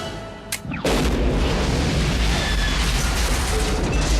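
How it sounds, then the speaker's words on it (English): An oil rig blows up in the action film On Deadly Ground, a sudden loud boom after a brief sharp crack, then a sustained roaring rumble of fire and debris that stays dense and heavy to the end. "Seagal finds there's no other way to contain the blaze but to blow up the rig"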